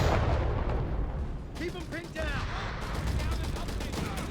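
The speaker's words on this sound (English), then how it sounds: "Bring in some light artillery here." Light artillery fire in Company of Heroes 3, a WWII strategy game battle, with booming shell blasts and crackling gunfire rolling continuously in dense overlapping bursts, loud and busy throughout.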